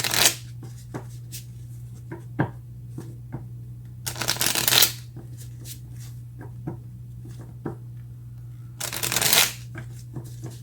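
Tarot cards shuffled in bursts, two long riffling runs and scattered soft card taps and flicks between them, close and fairly quiet over a steady low hum.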